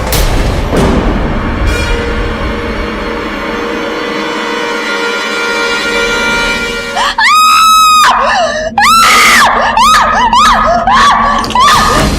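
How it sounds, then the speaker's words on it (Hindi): A woman screams in a dramatic TV serial scene: several loud, shrill, wavering shrieks in bursts after a tense, droning musical buildup with a sharp hit at the start. "आप चिल्ला क्यों रही हैं?"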